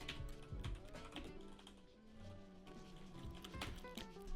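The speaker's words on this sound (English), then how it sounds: "Sorry for my shitty typing skills." Typing on a computer keyboard, a run of quick uneven clicks over a busy background of music or other sound, fairly steady throughout.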